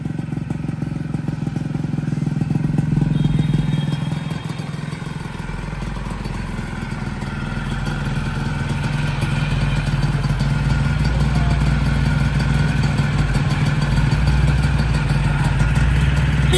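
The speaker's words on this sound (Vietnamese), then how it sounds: "Cục máy mà mới làm mới đầu nó sẽ hơi xào xào tại đổ chưa đều" A freshly rebuilt Yamaha Yaz 125 two-stroke motorcycle engine revs and idles steadily up close, buzzing and rattling loudly throughout with a slightly uneven, raspy tone.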